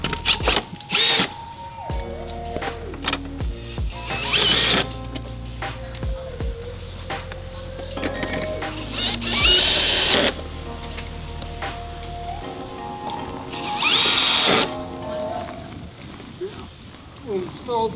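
Power drill or impact driver running in repeated bursts while fastening 12 mm support rod bolts under a Subaru Crosstrek, loud and close, with workshop clatter between runs.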